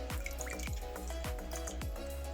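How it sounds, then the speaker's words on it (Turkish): Peeled quinces dropped into a bowl of lemon water make soft, close plops and bubbling gulps, about four distinct splashes at an even pace over a quiet watery background. "ayvamızı hazırlamış olduğumuz limonlu suyumuzun içerisine atacağız"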